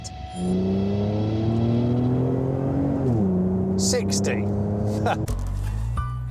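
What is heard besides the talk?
sports car aftermarket exhaust revving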